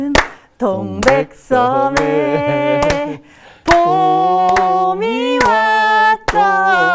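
Hands clap a steady beat alongside a woman singing a Korean spring folk tune in a talk-show studio, the sharp claps punctuating the held sung notes, close and loud.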